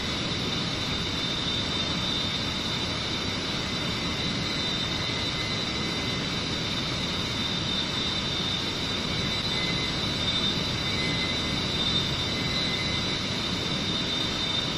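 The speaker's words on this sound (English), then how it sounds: "Now let's accelerate by advancing the throttle back to max." Jet aircraft engines held at full throttle in a flight simulator game, a dense, steady roar with a constant high whine running unbroken throughout, loud and without talk.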